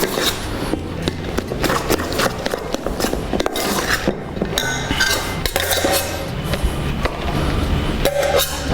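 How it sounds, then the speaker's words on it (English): Ingredients are given a quick mix to bind them, with a spoon or utensil clinking and scraping against a bowl. The taps are loud and close, quick and repeated in an uneven rhythm. "just a quick mix, just to bind everything together"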